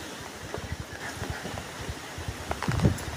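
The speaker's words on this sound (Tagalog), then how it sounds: "ay lakas ng hangin, no?" Strong, gusting storm wind with rain, near banana plants, rushes and buffets in uneven bursts, fairly faint overall and building toward the end.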